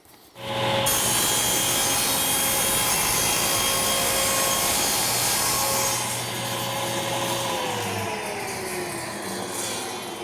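A power saw makes the first cut in a wood board for a small box, a steady loud whine with broadband cutting roar sustained for about ten seconds, easing slightly in pitch and level toward the end.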